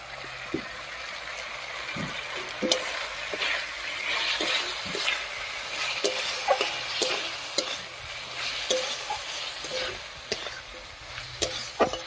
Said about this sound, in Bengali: জিরা বাটা দিয়েও আলুর সঙ্গে খুব ভালো করে কষিয়ে নিয়েছি